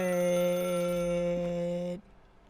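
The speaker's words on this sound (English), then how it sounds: "Okay, I'll pick up the phone, because I think I should do this ending first." A telephone rings in The Stanley Parable: Ultra Deluxe, a steady, loud electronic ring that holds for about two seconds and then cuts off abruptly, with no talking.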